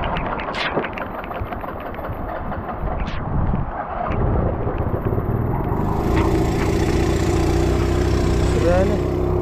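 A broken Yamaha NMAX scooter runs with a low, uneven idle that steadies and grows louder partway through. Voices are heard over the engine at times.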